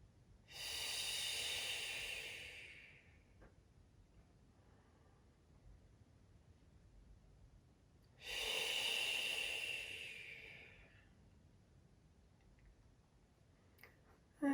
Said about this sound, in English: we're going to take 3 long deep breaths. Breathe in as you fill your lungs.